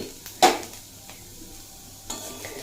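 Potatoes frying in ghee with coarsely ground black pepper are stirred: one sharp scrape and clink against the pan, a quieter one after, over a faint steady sizzle.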